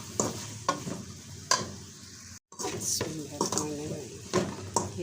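Chicken and spices stir-fry in a pan with a steady sizzle, broken by sharp spatula scrapes and clinks against the metal at irregular intervals.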